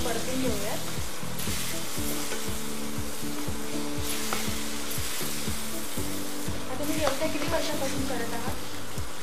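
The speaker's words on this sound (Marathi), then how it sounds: "ते आता वाटण ते आपण या मसाल्यामध्ये चांगलं तेल सुटेपर्यंत परतून घ्यायचंय." A ground roasted coconut and onion paste sizzles steadily in hot oil and masala as it is sautéed, a close continuous frying hiss with occasional stirring sounds.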